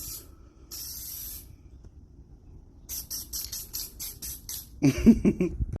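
Cheap Krylon spray paint hissing onto a Jeep Wrangler rear bumper in several bursts, first longer sprays then a rapid string of short pulses, close and loud against background noise.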